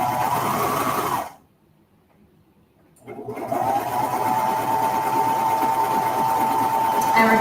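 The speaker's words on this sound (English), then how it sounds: "we're just going to sew down one side" Sewing machine stitching down one side of a men's shirt being refashioned into a tank top: a steady close mechanical whir that stops for about two seconds, then resumes and runs continuously to the end.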